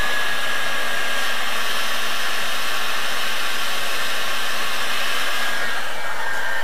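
Electric heat gun running with its fan blowing steadily while the heating element is switched off and cooling, a loud continuous broadband whoosh with a low hum, alone and unbroken.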